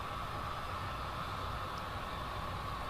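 A model coal train with roughly 38 bathtub coal cars rolls steadily along layout track, giving a constant low rumble and hum, close and unbroken, with no talking.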